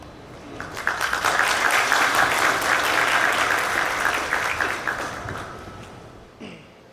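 Crowd clapping at a rap battle, dense sustained applause that swells and then tapers off, fairly loud and filling the space.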